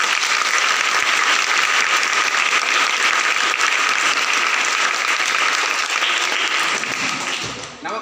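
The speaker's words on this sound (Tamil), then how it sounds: "பலத்த கரகோஷம் கொடுங்க பார்ப்போம்" Loud, sustained applause from a school audience for teachers at a convent school event, dense clapping filling the space continuously before tapering off at the very end.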